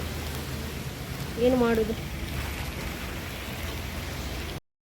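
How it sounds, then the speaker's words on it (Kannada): Heavy rain pours in a continuous dense hiss on an outdoor street, steady and loud throughout, with a short spoken phrase over it. "ಸೊ ಹಾಗೆ ಜೋರು ಮಳೆಯಲ್ಲಿ ಹೋಗ್ತಿದ್ದೇವೆ"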